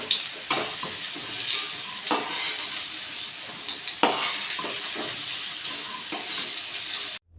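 Pumpkin pieces sizzle in hot oil while a spatula stirs them, steady close frying crackle broken by repeated scraping strokes at an uneven rhythm, with no voices.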